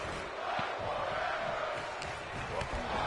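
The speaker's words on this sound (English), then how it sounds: "And listen to the crowd." Crowd at a live wrestling match, a sustained mass of voices and shouts from a packed audience, moderately loud with a few sharper yells and thuds rising above the din.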